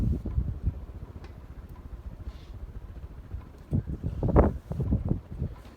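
A Hunter Sojourn 52-inch ceiling fan with walnut blades runs and pushes a lot of air, heard as low rumbling wind buffeting the microphone with gusty swells that grow stronger toward the end.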